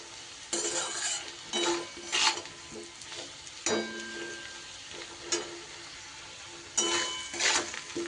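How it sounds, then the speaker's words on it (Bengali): Turmeric and chilli powder stirred into hot oil for a fish recipe: bursts of scraping spatula strokes and light metal clinks against the pan over a soft sizzle, close, with pauses between stirs. "এবার আরও একটু সময় নাড়িয়ে চাড়িয়ে নেব এইভাবে হলুদ আর লঙ্কার গুঁড়োটা কিন্তু তেলের ওপরে দিলে"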